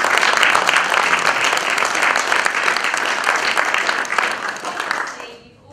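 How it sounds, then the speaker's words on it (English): Loud, dense applause from an audience after a talk on the healing power of plants. The clapping holds steady for about five seconds, then tapers off quickly. "So really want to give Peter a massive round of applause."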